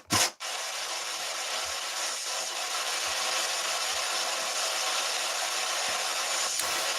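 A spirit box radio sweeps static at the Ancient Ram Inn, giving a steady, even wash of hiss. A sharp burst opens it, and faint low thumps drop in now and then.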